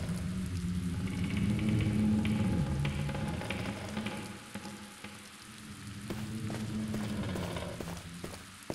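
Steady rain and gusting wind pour through a broken window in a video game, a dense continuous hiss with soft patters and a faint low rumble, no voices.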